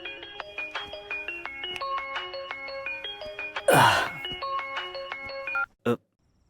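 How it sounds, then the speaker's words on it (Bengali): A mobile phone ringtone plays an incoming-call melody of repeated electronic tones, loud and close, broken by a sharp whoosh partway through before stopping abruptly. "রশনি, এখন তুমি ফোন করছো?"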